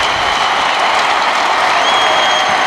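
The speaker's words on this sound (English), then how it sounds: "The Devils fans cheering Martin Brodeur" A hockey crowd of New Jersey Devils fans at a 2006 playoff game against the New York Rangers cheers and applauds goalie Martin Brodeur, a dense, loud, sustained roar of clapping and cheering from a large arena audience.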